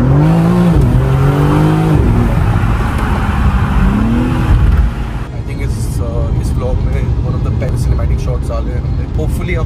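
A BMW M4 Competition engine revving, the pitch rising and falling in a couple of loud close sweeps before settling to a steady drone, with a voice speaking over it.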